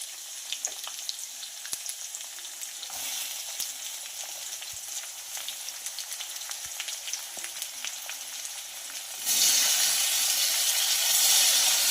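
Finely chopped tomato and onion sizzling in a pan for a toddler's dal-rice dish, a steady crackling fry with occasional stirring clicks that surges louder and hissier near the end as the onion hits the hot oil.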